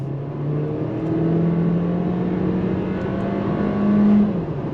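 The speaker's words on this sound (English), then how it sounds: "On throttle, here we go." A 2025 VW Taos small SUV pulls away on full throttle, its engine note rising steadily and loud close to the cabin, with a brief climb near the end.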